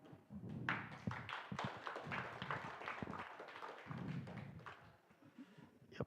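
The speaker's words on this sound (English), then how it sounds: "Please applaud him." An audience at a conference in Rosarito, Mexico claps, with scattered hand claps and taps forming modest, uneven applause that fades out near the end.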